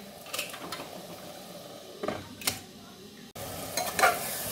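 Mutton curry being stirred in a pan for a few seconds, with spoon scrapes and soft sizzling at close range and a brief quieter gap partway through, with no voices.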